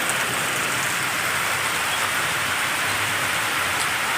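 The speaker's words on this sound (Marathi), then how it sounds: "असा भयंकर धो धो धो धो असा पाऊस पडतोय" Heavy rain pours steadily, a dense, continuous roar of drops drumming on surfaces, close and loud throughout with no voices.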